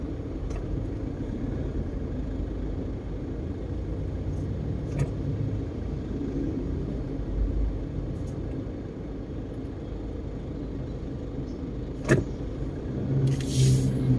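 Heavy late-night traffic on EDSA near Cubao, with trucks in the bus carousel lane: a steady low rumble of engines and tyres, passing vehicles swelling now and then, continuous and fairly close.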